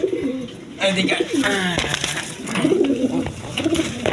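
A pair of big, high-quality pigeons coo in throaty low bursts, close by, while someone talks over and between the calls in a busy pigeon loft.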